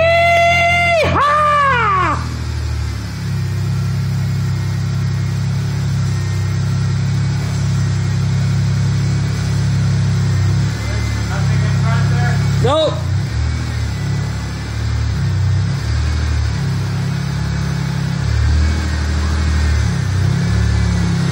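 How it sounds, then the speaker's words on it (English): A 2004 Mazda6 fitted with a 2006 Ford Fusion engine idles steadily after starting, a loud, continuous low engine drone up close. Voices can be heard at the start and partway through. "Listen to that motor."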